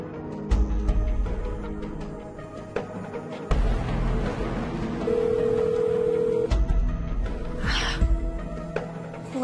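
Telephone ringing on a call that goes unanswered, a steady electronic tone heard up close with short breaks between rings, fairly loud over faint room noise.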